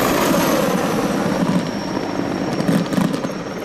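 A Mi-171 military helicopter flies over an outdoor defence demonstration, its engine and rotor making a loud, steady roar throughout.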